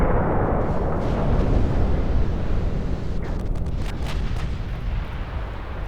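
Naval artillery salvos and flash fire explosions in the Ultimate Admiral Dreadnoughts naval warfare game roar continuously as a dense, loud rumbling barrage, with sharper cracking blasts breaking through near the end.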